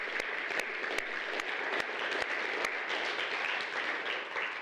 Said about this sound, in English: I just want to clap my hands and say thank you